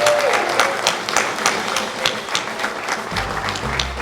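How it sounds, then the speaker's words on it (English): A round of clapping for Jake at a movie premiere event at Six Flags headquarters, scattered sharp claps from a modest crowd with some low rumbling noise near the end. "a round of applause for Jake."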